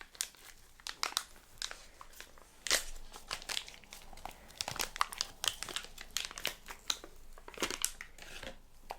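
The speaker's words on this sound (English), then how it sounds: "I've got a clean packaging here." Clean plastic packaging crinkles and crackles under handling in close, irregular bursts with brief quiet gaps between, soft and intimate, with no talking.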